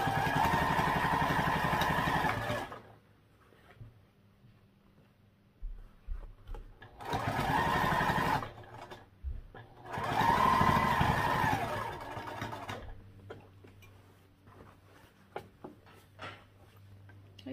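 A sewing machine stitches the sides of a crossbody bag in three separate runs of steady mechanical whirring, each a few seconds long, with quiet pauses between them.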